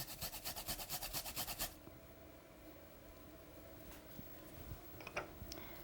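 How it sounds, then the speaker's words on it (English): Fresh ginger being grated by hand, a rhythmic burst of about ten quick rasping strokes lasting under two seconds, followed by quiet room noise and a few faint knocks. "A little bit of ginger. What I'm going to do is just grate it on top here."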